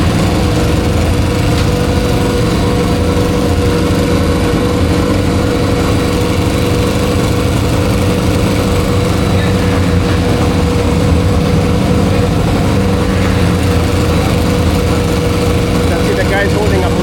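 Trackside at a MotoAmerica race at Virginia International Raceway, a steady loud engine-like drone runs unbroken throughout as crew hold an air blower to a race motorcycle to keep it from overheating.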